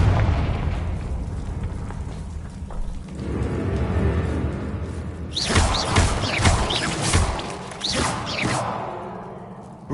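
In the video game Hogwarts Legacy, a Confringo spell explodes with a loud boom and rushing burst, followed by a spell of crackling, fiery bursts that gradually fade, with no talk.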